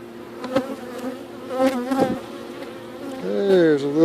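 Honey bees hum and buzz steadily around an open backyard hive during an inspection, close to the ear, with several louder passes as bees fly near.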